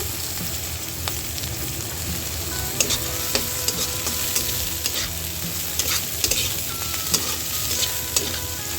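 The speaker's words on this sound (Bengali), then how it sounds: "এখন তেল দিয়ে দিলাম পেঁয়াজ আর কাঁচামরিচ একসাথে দিয়ে কিছুক্ষণ একটু ভেজে নিব" Onion and green chili fry in hot oil in a pan after fish has been fried, a constant close sizzle with scraping stirring strokes at irregular intervals and no voices.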